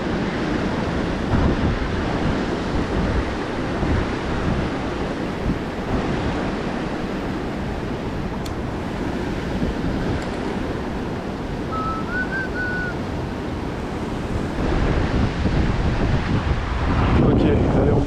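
River current rushes at a confluence where one river flows into another during an evening thunderstorm, a loud, steady roar of water and wind close by, swelling toward the end.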